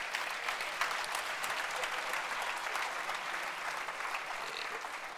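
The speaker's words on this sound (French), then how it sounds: "vous pouvez l'applaudir" Audience applause at a Christian talk: a dense, steady wash of many hands clapping, loud and sustained throughout with no voices on top.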